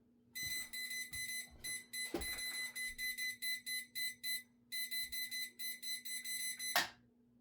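A level's alarm beeps rapidly and steadily while the level is off true, a pulsing high tone under a low hum, with brief handling knocks and a short pause before the beeping stops.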